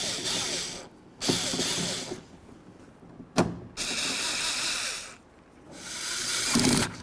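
Mounting bolts being driven into a 2007-14 Ford Edge front door with a power tool, three close, loud whirring bursts of about a second each, separated by short pauses and a sharp click.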